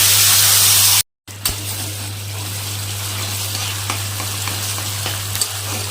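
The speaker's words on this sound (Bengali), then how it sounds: "এবার ভালো মতো কষিয়ে নিতে হবে মশলাটাকে" Spice masala for a Bengali radish dish sizzling steadily in a pan over low heat, a continuous close frying hiss with faint stirring scrapes after a brief gap at the start.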